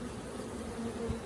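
Honey bees buzz on a frame pulled from a failing hive, a dense, continuous close-up drone with a steady hum and no pauses.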